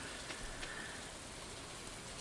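Steady, soft rain hisses evenly throughout on a rainy day in the game Stardew Valley, a quiet constant wash with no other sounds over it.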